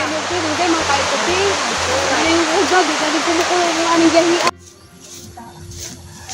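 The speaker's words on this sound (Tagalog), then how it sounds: "Nakita na dyan ang Tagbilat Falls." Tagbilat Falls in Zamboanga Sibugay rushes with a loud, dense roar of water that holds steady for several seconds, with voices talking beneath it, then cuts off abruptly to quieter surroundings.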